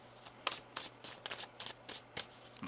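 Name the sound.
shuffling tarot cards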